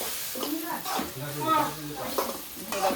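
Masala paste roasting in hot oil in a pan over a wood-fired stove for a mutton offal curry, a steady close sizzle and crackle under a stirring scrape, with some tonal background sound throughout.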